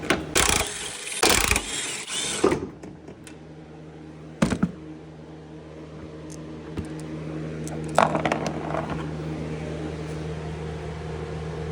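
Breaker bar straining on a rusted bolt on a 2020 S550 Mustang GT during an air suspension install, sharp metallic cracks and clanks in the first few seconds, then a steady low mechanical hum with occasional knocks.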